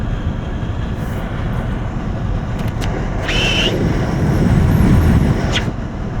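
Wind rushing past a window seal inside a 2025 Polestar 3 while driving, a constant broadband roar of road and wind noise that swells slightly toward the end, with a few faint clicks.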